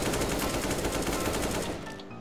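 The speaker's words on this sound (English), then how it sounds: "Let's shoot them!" Rapid automatic gunfire in the video game CS:GO, a steady fast burst of shots that runs loud and unbroken for about two seconds before tapering off with a ringing tail.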